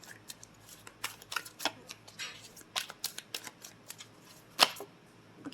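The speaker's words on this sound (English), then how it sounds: "let's go ahead and let's get some oracle cards" A deck of oracle cards being shuffled close up, quick papery flicks and taps in an irregular rhythm, fairly soft and heard alone.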